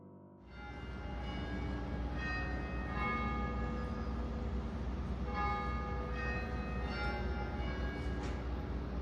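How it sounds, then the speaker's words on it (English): Church bells of Great St Mary's, Cambridge, ring the Cambridge Quarters: a slow sequence of chimes, each strike ringing out and overlapping the next over a steady background hum. "a sequence of chimes was composed for the bells of Great St Mary's"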